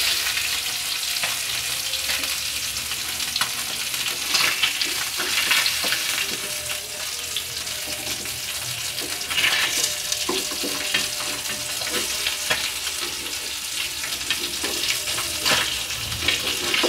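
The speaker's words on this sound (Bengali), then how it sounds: "আমাদের মাছগুলা ভাজা হয়ে গেছে" Pieces of rui fish fry in hot oil in a pan for a fish kalia, giving a continuous, close, crackling sizzle with scattered pops and no talking.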